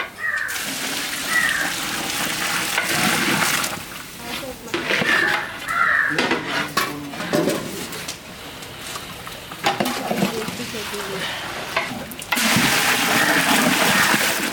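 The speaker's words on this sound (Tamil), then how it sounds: "தேவையான தண்ணி சேர்த்துக்கலாம்" Water poured into a pot of rice with masala-coated chicken while making chicken biryani, a running, splashing pour that rises and falls with a few breaks, loud and close.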